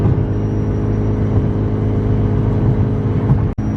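A Mitsubishi Evo 9 cruising on the highway at 75 mph, heard from inside the cabin with the AC running: a steady engine drone and road hum, continuous and fairly loud, cut off by a brief dropout near the end.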